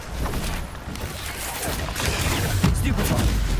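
Protego shield spell cast in Hogwarts Legacy, a steady wash of booming, rumbling magical effects with a heavier thump near the end, loud and close, layered with other combat sounds.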